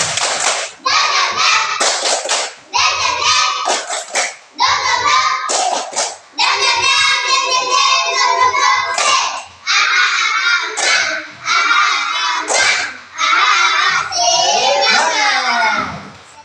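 Schoolchildren in a classroom clap together in a rhythmic pattern while chanting in unison, loud and close, with short pauses between the repeated phrases.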